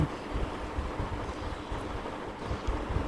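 Spiced broiler chicken frying dry without water in a pan, stirred steadily, giving a continuous close sizzle with a broad hiss and soft scraping throughout.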